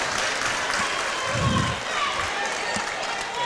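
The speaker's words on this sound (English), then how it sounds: "Applause there from the St." Brief clapping from the St. Vincent and the Grenadines bench during a netball invitational game, moderate and fairly close, mixed into gym ambience and a commentator's talk.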